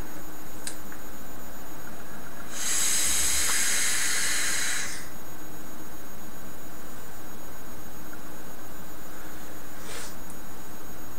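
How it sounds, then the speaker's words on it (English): Orange Blasphemy e-liquid vapour hissing as a single broad burst of about two seconds, loud against a quiet background, with faint clicks before and after. "Which gives you a nice cool vape."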